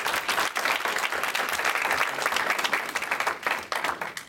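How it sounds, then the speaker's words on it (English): An audience applauds at a talk, a dense, sustained wash of clapping from many hands that holds steady for several seconds and thins slightly near the end. "So let's give him a big round of applause."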